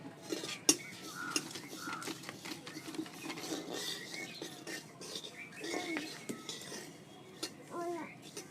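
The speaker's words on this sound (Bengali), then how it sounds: "এইবারে তিলটা ভেজে নিচ্ছে।" Sesame seeds roasting in a pan for Bengali murir moa give a steady crackle with light scraping and metal clinks across the whole stretch, and a voice can be heard at times.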